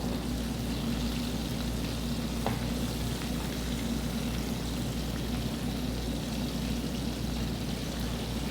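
Gulsha fish fry in hot oil in a pan, giving a continuous, even sizzle that runs throughout with a brief clink partway and no talking.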